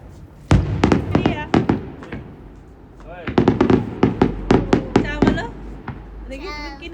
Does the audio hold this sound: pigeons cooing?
no